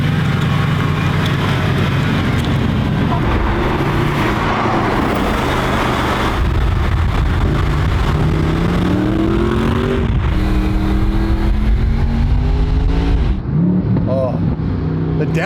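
A car engine revs loud and close throughout and climbs in pitch through several rising sweeps, with blips that fit downshifts toward the end, while a person talks over it.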